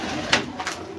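Soft, brief cooing from domestic pigeons in a keeper's loft collection, a couple of quiet murmured notes against a steady background hiss.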